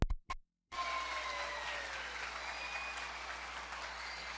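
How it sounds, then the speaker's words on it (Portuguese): Loud, steady applause from a church congregation during a Pentecost Sunday homily, a dense even wash of clapping that starts after a brief pause and continues without letup. "Uma salva de palmas para todos estes nossos irmãos"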